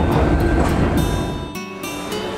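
Onboard a local train near Izu-kyu Shimoda on the Izu coast heading toward Kawazu, with a steady rolling rumble and faint rail clatter throughout, a brief dip midway, no voices.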